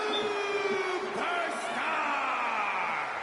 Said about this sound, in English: It's great to hear the crowd give this superstar the reception he deserves